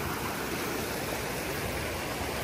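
Continuous rushing of a mountain stream flowing at a resort, a steady broadband splash pouring nearby, with no pauses.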